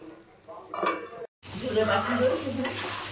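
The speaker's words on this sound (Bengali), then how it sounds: "ঢাকনা দেবো আর একবার করে উল্টাবো, এরকমভাবে এখন কষাবো" Mutton braising in a pan with a steady sizzle, and brief scraping and clinking as a spoon turns the meat. A short silent gap comes before the louder, continuous frying resumes, close by.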